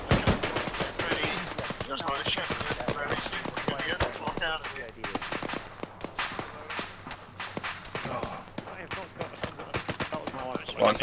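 Gunfire in the military shooter Arma 3, rapid bursts of sharp shots, some in quick automatic strings and others single cracks, near and far, going on throughout with voices talking over the shooting.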